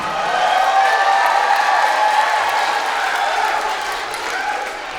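Children cheer and clap for Hollydale school at an evening performance, a steady crowd roar of shouts mixed with applause, fairly loud and easing slightly toward the end.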